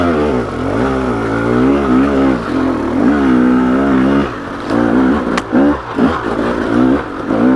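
A KTM 300XC dirt bike engine revs hard in second gear on a trail ride, its pitch climbing and dropping in steady sweeps before breaking into choppy throttle blips near the end, loud and close.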